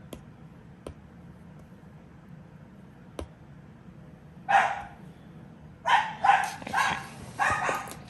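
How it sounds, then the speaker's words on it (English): Dogs bark in bursts inside a house, loud and close, in several clustered barks during the second half, after a quiet stretch with faint ticks and a brief spoken word. "And there go the dogs."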